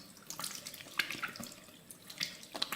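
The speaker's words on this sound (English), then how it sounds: "Rinse my face." Water running from a bathroom tap into a sink while a face is rinsed, with soft splashes and irregular drips and hand splashes over a steady faint flow, close by.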